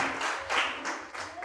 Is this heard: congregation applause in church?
yes